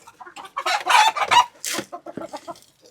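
Chickens clucking and squawking up close at feeding time, a busy run of loud, overlapping calls and cackles from several birds.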